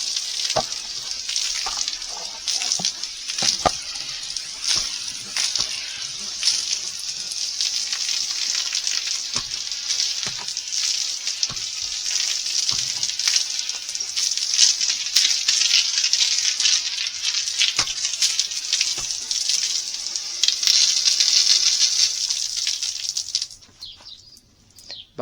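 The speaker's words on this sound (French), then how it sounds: "Donc il y a l'eau qui arrive, et voilà ce que ça envoie." Steady, loud hiss of water spraying from a cheap telescopic cleaning brush connected to a garden hose, running continuously under high pressure before cutting off abruptly near the end.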